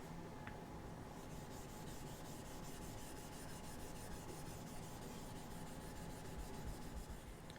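A 600 grit Nagura stone rubs back and forth across a Naniwa Snow White 8000 grit whetstone, a faint, steady, gritty scraping that continues evenly with no pauses.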